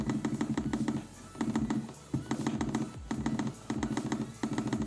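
Rapid dull clicks and taps from a laptop touchpad and keys, coming in quick clusters with brief pauses between them, close and fairly quiet.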